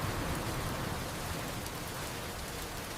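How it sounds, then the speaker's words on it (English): Steady rain falling outdoors on a slippery street near a bus stop, a dense continuous hiss of drops on surfaces, close and even throughout with no other sounds. "The ground is slippery because of rain."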